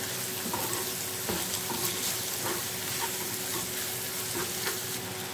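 Zucchini stuffing of minced meat, vegetables and tomato paste is stirred and mixed in a sizzling pan. A loud, continuous fry runs under repeated scraping strokes of the spoon.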